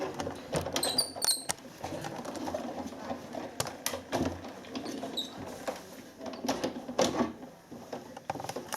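A die-cutting machine feeds cardstock through pop-up craft dies, giving a continuous mechanical grinding and clicking texture at close range for several seconds, with scattered sharper knocks and no speech.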